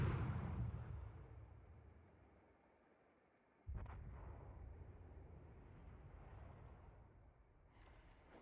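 Torpedo explosions in a warship video game, a deep rumbling boom that decays over a few seconds, followed by a second heavy blast and a rolling tail.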